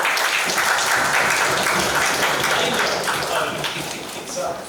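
Clapping from an audience at a G-20 model youth conference, a dense, continuous patter of many hands that stays fairly loud throughout and tapers slightly near the end.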